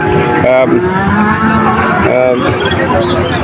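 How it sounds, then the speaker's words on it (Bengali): Calves moo at a cattle market, two short nearby bleating moos amid steady crowd murmur and background engine noise. "অনেক সুন্দর সুন্দর বাছুর এই হাটে আছে"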